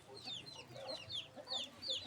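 Chickens clucking close by as grain is brought out for them, several soft overlapping clucks in quick bursts, fairly quiet with no other sounds standing out.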